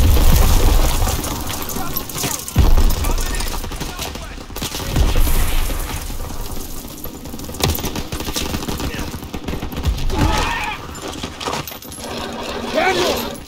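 Gunfire from Call of Duty WW2 comes in bursts and scattered shots mixed with dense battle noise, heard amid shouted voices in a chaotic, loud firefight.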